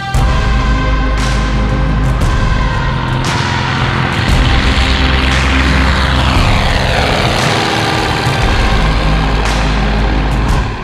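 A Stinson light propeller airplane on its takeoff run, the engine droning loud and steady at full power close by as it climbs away from the runway, with no talk.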